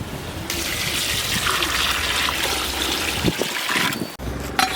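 Water poured into a pot of beef biryani masala, a steady gushing stream that runs for several seconds before breaking off, with a brief clatter near the end.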